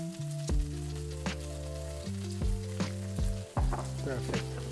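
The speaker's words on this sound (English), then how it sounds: "We will put the mushrooms with a little bit of butter." Mushrooms frying in butter in a pan: a steady close sizzle with a few sharper clinks and stirring knocks scattered through it, with no talk over the cooking.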